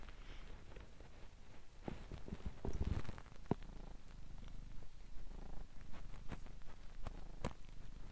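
A pet cat purrs loudly close to the microphone in a steady rhythmic rumble, broken by rustling and bumping as it squirms away from the mic.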